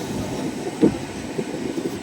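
A train idles at a quiet rural station in West Bengal at night, a steady low rumble with a couple of faint clanks and a short metallic squeal, with no one talking.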